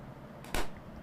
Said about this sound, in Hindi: पटाखे फोड़ के मतलब खुशी मना रहा है